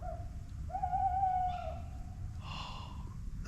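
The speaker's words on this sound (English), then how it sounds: "there's literally an owl" An owl hoots in freezing woods at night, a wavering tonal call close overhead with a fainter second call later, over a low steady background rumble and no talk.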